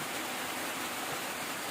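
Steady rain pours down outdoors at a construction site, a continuous broadband hiss with no distinct drops standing out, moderately loud throughout.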